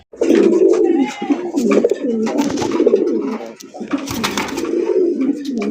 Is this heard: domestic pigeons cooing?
yes